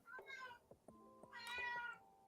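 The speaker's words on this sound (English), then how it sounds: "this cat's killing me" Two clear cat meows a moment apart, the second longer and louder, heard close up over a quiet room with faint low thumps in between.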